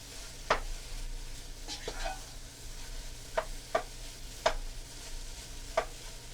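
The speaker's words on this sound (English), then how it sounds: "we're just going to stir this up for maybe" A spoon stirring old-fashioned beef stew in a pot, a quiet bed of low sizzle punctuated by several distinct clinks and scrapes against the pot at irregular intervals.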